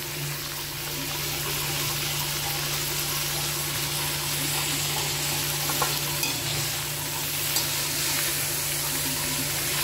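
Fish pieces with big fish heads, coriander leaves and garlic paste sizzle steadily in a home pan, frying and stirred throughout with a continuous crackling hiss and occasional utensil scrapes, no voices.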